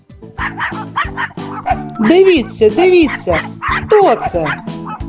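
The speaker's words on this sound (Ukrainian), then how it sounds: "Це собака." A dog barks and yips repeatedly in a farmyard where domestic animals are kept, with small puppies nearby, the calls fairly close and loud and mixed with someone talking over them.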